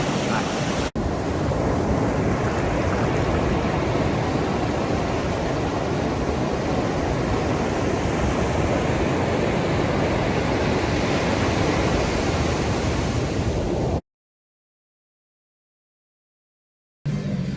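Ocean surf on a beach makes a steady, close broadband roar with heavy wind buffeting the microphone, then cuts to silence briefly before resuming.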